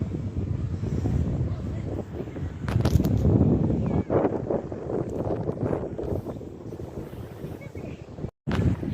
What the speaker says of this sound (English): Yeah, that wind is really picking up now.